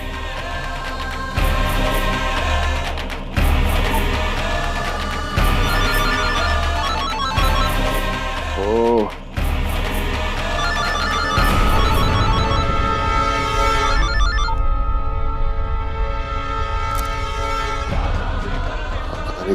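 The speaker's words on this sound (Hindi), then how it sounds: "पता नहीं क्यों बार बार फोन कर रहा है।" A telephone rings over and over beneath continuous music, the repeated ringing bursts running throughout with a voice briefly calling out.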